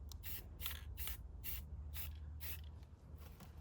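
Spray paint hissing from an aerosol can over a curb number stencil, six short bursts in an even rhythm, close and fairly loud above a steady low outdoor rumble.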